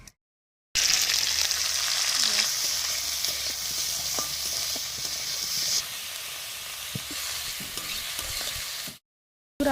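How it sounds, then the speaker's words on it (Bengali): Shrimp frying in a wok with salt and turmeric, a continuous bright sizzle and hiss with occasional pops and stirring clinks, steady and close, without talk. "এখন কড়াইতে চিংড়ি মাছগুলোকে লবণ ও হলুদ দিয়ে ভালো করে ভেজে তুলে নেওয়া হবে।"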